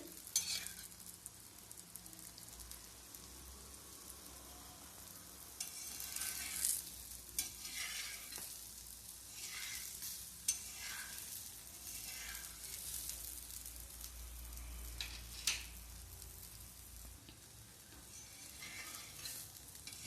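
Cabbage paratha fries in ghee on a pan, a faint, steady sizzle with occasional soft scraping and crackle, heard close and alone.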